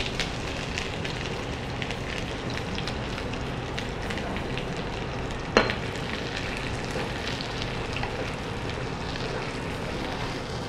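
Onion sizzles in hot oil in a pan, a steady close crackling fry with one brief sharp clink partway through.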